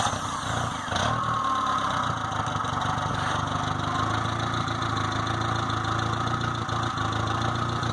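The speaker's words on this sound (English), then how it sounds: "putting this little Kohler engine on underneath the hood. Just a little farm vehicle. So I'll go ahead and start this up for you" Small Kohler engine fitted under the hood of a Geo Tracker farm vehicle, idling steadily with a continuous low rumble and a faint rattle, a brief surge near the start, running alone without talk.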